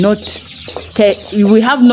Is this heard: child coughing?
no